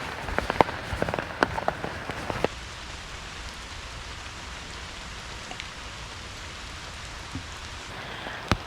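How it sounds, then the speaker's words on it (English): Rainwater pours out of a house's downspouts during light rain, a steady soft splashing hiss with a few sharper drips and taps in the first seconds, heard nearby and without talking. "So even though it's not raining hard, it has a lot more water coming out."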